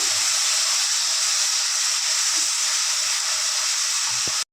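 Blended onion fries in hot oil in a pan, a steady, fairly loud hissing sizzle that holds evenly from start to finish and cuts off abruptly at the end.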